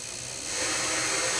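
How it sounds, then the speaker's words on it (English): A spotting drill spins into a fixture plate for a band saw, a steady high whine that builds and grows louder partway through, with no voices. "I've got a spotting drill set up"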